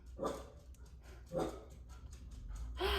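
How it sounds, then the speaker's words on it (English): A small dog barks from an upstairs window indoors, three sharp barks spaced about a second apart, moderately close over quiet room tone. "I didn't think he could bark from up here, but he has found a new window."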